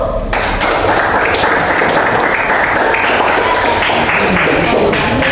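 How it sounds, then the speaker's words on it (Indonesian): A classroom of students applauds for a presenting group, with loud, dense clapping that starts abruptly and holds steady throughout. "sekali lagi kita beri aplaus untuk kelompok 1"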